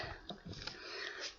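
A few quick, faint nasal sniffs from a person resting during an indoor Pilates session, soft and breathy against a quiet background.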